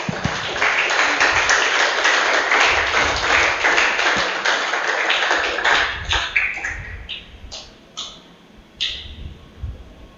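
A church congregation applauds its 2024 graduates with a dense burst of clapping that fades into a few separate claps near the end.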